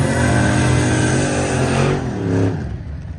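A drag race car's engine revs loud and close at an airport drag strip, a dense sustained roar that surges and then dips slightly before building again, with no voices over it.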